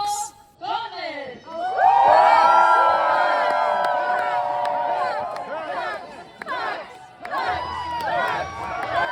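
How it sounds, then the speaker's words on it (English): A crowd at a Renaissance Faire joust cheers and shouts in a loud, sustained roar close around, with whoops and chanting voices rising over the general din before a short dip and a second swell. "Yes, we are chanting PEX."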